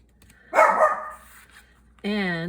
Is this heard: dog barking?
yes